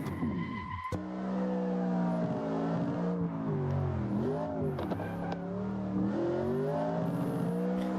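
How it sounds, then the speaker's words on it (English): An F4 race car with a 454 engine roars at Virginia International Raceway, a loud close engine note that rises and falls through shifts with tire squeal. "Also, the car just sounds great. This car came with the 454."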